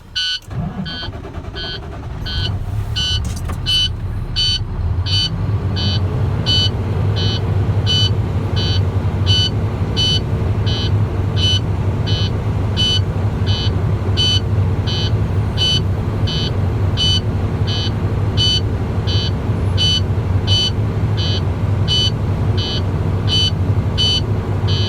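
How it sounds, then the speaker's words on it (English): A truck's engine holds a steady, loud mid-range rumble while building air to refill the brake tanks, overlaid throughout by a regular, rapid electronic beeping after a brief start-up surge. "I'm gonna fuel 12 to 1400 RPMs and refill my tanks."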